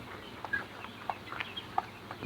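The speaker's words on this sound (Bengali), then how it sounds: "লক্ষ্য করে দেখলাম কিছু মুরগি কাশি বা ঘর ঘর করছে" Seventeen-day-old broiler chickens in a shed of 1,600 birds make short, scattered sounds, a few sharp clucks and rasping notes over a low, steady background with no talk.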